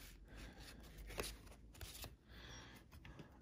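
Stiff cards from a large Marseille tarot deck shuffled and drawn by hand, a quiet run of papery slides and soft snaps close to the listener, repeated in short bursts with no talking.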